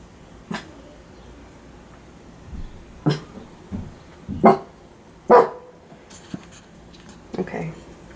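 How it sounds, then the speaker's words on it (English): A studio dog guarding the house barks in short, separate woofs, about six of them spaced irregularly, heard from another room in the background at moderate volume. "It's my studio dog guarding the house."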